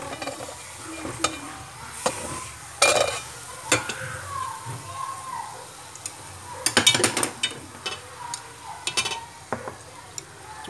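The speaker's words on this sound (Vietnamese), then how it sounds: "Ta sẽ xào cho nó thơm." Sizzling oil with minced garlic and shallots, scraping stir strokes and clinks of a utensil against a pan, irregular and close, with no talking.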